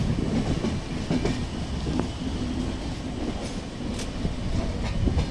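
A train running on the Araku to Visakhapatnam line near Karakavalasa station rumbles steadily, with rhythmic clickety-clack wheel beats and faint squeals, heard close up and continuous without talk.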